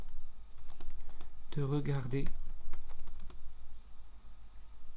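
Rapid clicking of a computer keyboard as a message is typed, steady and close, pausing briefly while a voice speaks in the middle.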